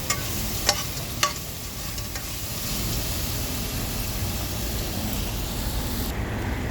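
Chicken curry ingredients sautéing with salt in a pan, a steady broadband sizzle running throughout with a couple of sharp utensil clicks early on, close and continuous with no voices.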